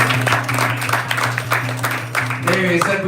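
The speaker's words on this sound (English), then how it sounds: "But just a big round of applause for all of our volunteers as well." An audience claps for volunteers at a Gita Yajna gathering, a steady wash of many hands applauding in a hall, with a voice speaking over the clapping.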